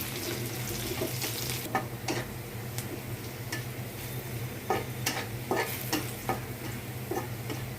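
Chopped garlic and onion sizzle steadily in a hot pan, with repeated scraping stir strokes and occasional clinks of the spatula against the pan, close and fairly loud throughout.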